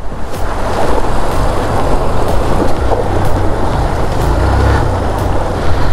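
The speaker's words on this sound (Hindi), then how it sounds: "ये देखो वाटर क्रॉसिंग" A motorbike fording a stream on the rough mountain road over Shinkula pass in Zanskar valley, rushing, splashing water and wind roar dominating throughout, loud and close with an engine rumble buried underneath.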